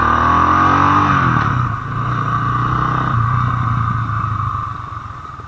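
A 2022 Motorstar Cafe 400 motorcycle engine revving loudly, then dropping in pitch and settling into a steady lower drone as it slows under front disc braking.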